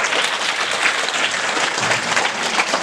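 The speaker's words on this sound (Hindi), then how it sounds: "ताली बजाओ गुड़िया के लिए" An audience at a spiritual teaching gathering claps for a young girl, close and loud continuous applause with a brisk, even texture from start to finish.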